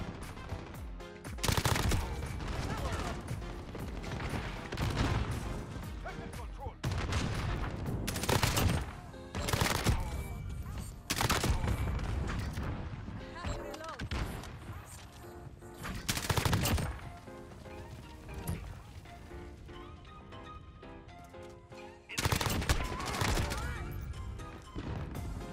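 Bursts of M4A1 rifle fire in Call of Duty: Modern Warfare, loud and close, several rapid automatic volleys separated by short pauses, with occasional speech in between.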